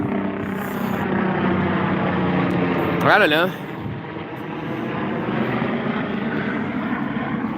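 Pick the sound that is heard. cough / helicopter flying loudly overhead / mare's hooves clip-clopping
helicopter flying loudly overhead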